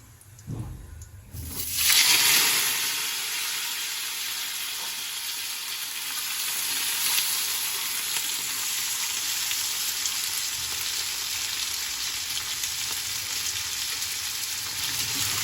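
Potatoes and cumin fry in hot oil in a pan, a loud steady sizzle that surges after a brief quieter start and then hisses evenly throughout.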